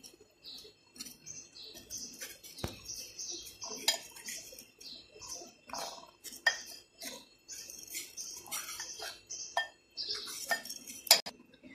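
Cornstarch, salt and black pepper are stirred together in a bowl for KFC-style chicken, giving a run of light clinks and scrapes from a spoon against the dish, uneven and fairly quiet, with no speech.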